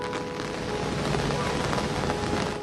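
Continual rain falls during flooding in Turin, Italy, as shown in news footage: a loud, dense, steady hiss of rain on surfaces with a faint low hum beneath.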